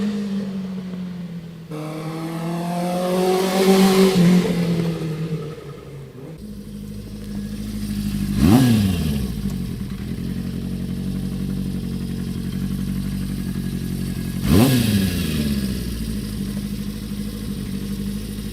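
A restored 1973 Honda CB350F Super Sport, a small-bore inline four-cylinder, runs at a steady idle with several sharp throttle blips that rise and fall back, close and clear with no talking.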